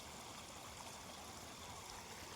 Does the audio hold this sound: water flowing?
yes